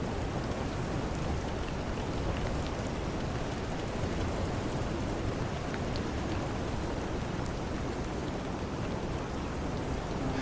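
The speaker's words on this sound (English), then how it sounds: "The rain came down." Steady rain falling continuously, a dense even patter of drops on surfaces with no voices, holding the same level throughout.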